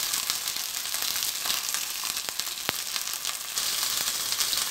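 Marinated chicken breast, thin-cut and seasoned with garlic, salt and pepper, frying in a pan over low heat, giving a steady close sizzle with scattered small pops and crackles throughout.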